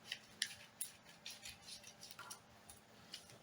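Scissors snipping through fabric to cut out a bustier top neckline, a quiet, close series of irregular crisp snips and rustles.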